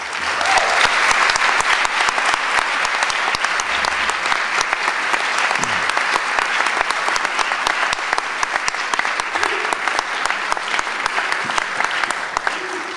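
Sustained applause from an audience at a university athletics recognition ceremony, steady dense clapping filling the hall for the whole stretch with no pauses.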